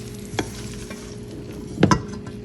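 BBQ chicken noodles with vegetables being mixed in a hot pan, a steady low sizzle punctuated by two scraping bursts of the utensil, the second stronger and doubled; no one speaks.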